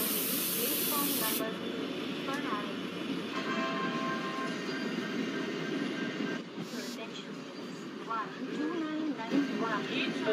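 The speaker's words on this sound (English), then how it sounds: "Let's release the brake of the locomotive and let's ready for departure." A locomotive's air brakes release with a loud hiss that cuts off early, leaving a steady idling rumble of a GOC WDP4D diesel at the station in Microsoft Train Simulator.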